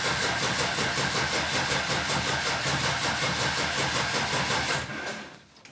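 A Holden HQ with its 202 engine, set up as a bare race car, cranks with a rapid even rhythmic churn, loud and close, for nearly five seconds, then stops and falls quiet without catching.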